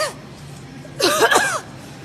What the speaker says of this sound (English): She's coughing on me.